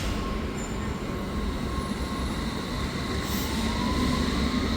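A London Underground Circle line train rolls past at street level in the subsurface section, giving a steady rumble of wheels and carriages with faint metallic squeal, close and continuous throughout.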